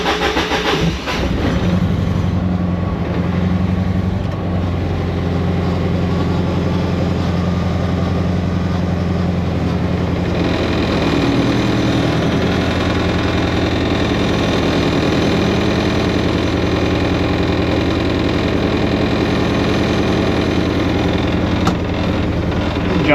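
A Ford Festiva fitted with a swapped-in Ecoboost engine idles steadily, a loud, even mechanical hum with a low rumble that holds throughout, shifting slightly in tone about halfway through.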